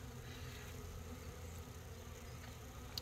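Steady low hum of honeybees buzzing around a backyard beehive, continuous and faint throughout, with no voices.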